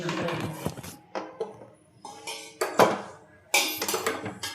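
A cooker pot set down on a kitchen stove for steaming kozhukattai, with a run of sharp metallic clanks and clinks of pots and utensils, close and moderately loud, separated by brief pauses.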